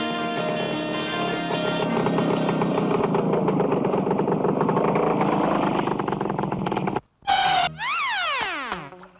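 A motorcycle engine running steadily and fairly loud, then cutting out abruptly before a short burst of other sound and rising and falling tones at the end.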